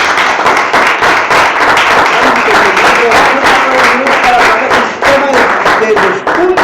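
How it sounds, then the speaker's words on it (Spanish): A church congregation applauding during a Sunday service, loud, continuous clapping from many people filling the room, with a voice talking beneath it throughout. "Un aplauso al Señor Jesucristo,"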